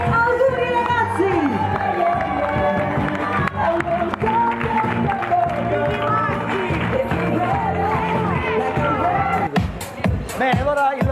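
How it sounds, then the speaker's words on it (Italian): Wedding guests cheer and clap for the bride and groom's first official toast, a dense, continuous crowd roar mixed with music and overlapping voices throughout. "mi fate sentire un applauso per il primo brindisi ufficiale degli sposi"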